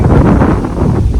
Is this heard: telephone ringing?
no